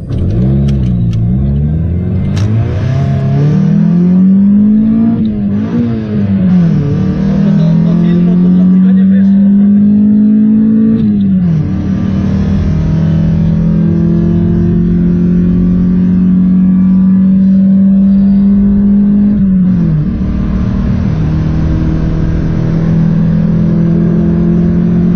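A fifth-generation Honda Civic with a stock D16Z6 engine and no exhaust manifold accelerates hard and close, its pitch climbing steadily then dropping at each of several gear shifts, loud and sustained.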